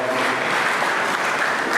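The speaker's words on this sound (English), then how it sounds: "Let's give them a round of applause." Brief burst of steady, dense audience applause at a school debate held for a Ghanaian school's anniversary, full and even, with no voices over it.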